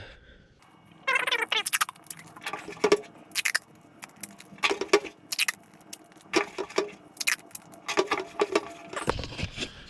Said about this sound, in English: So I'll tape this off real quick.